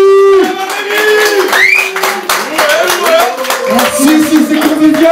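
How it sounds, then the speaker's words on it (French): A live studio audience claps and applauds after a song, a dense sustained patter of hands with a voice and tonal sounds mixed in throughout. "je vais vous demander de lui faire un tonnerre d'applaudissements"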